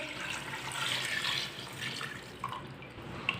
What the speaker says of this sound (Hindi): 2 गिलास पानी डाल लेंगे।